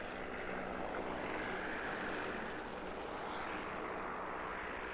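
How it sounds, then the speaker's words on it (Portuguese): Airplane flying past during a night map in the War Thunder simulator, a steady broad engine roar that stays loud and unbroken for several seconds with no speech. "Opa, o avião tá vindo."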